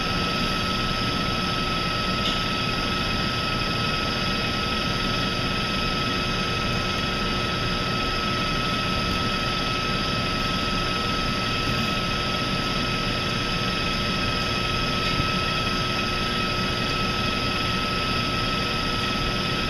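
A stand mixer whips honey mousse ingredients in a steady, continuous whir that runs unbroken and close throughout, with a strong low motor drone beneath the high whine.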